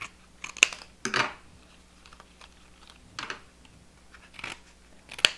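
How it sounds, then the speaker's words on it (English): Scissors cutting paper card pieces for a dimensional dahlia card, a series of crisp snipping clicks spaced irregularly, close and fairly quiet, over a faint hum with no talking. "Actually, let me cut from this side."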